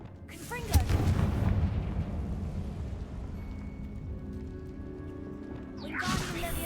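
In Hogwarts Legacy, a Confringo fire spell bursts with a sharp crack and a heavy booming rumble that rolls and fades over several seconds, followed by a whooshing swell near the end.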